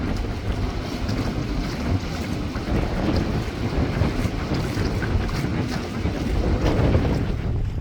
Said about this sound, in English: Basic's twin Yanmars got a bit of a workout, pushing the RPMs higher than we ever have.